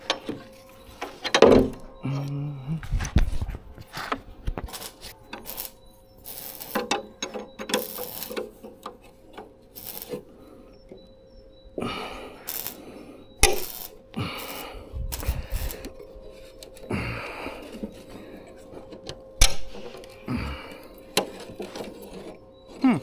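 Bolts come loose on a Scania 143H truck during body panel repair: intermittent ratchet clicks, metallic clanks and knocks arrive in scattered bursts, with quiet gaps between them.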